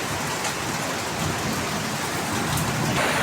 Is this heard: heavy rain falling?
yes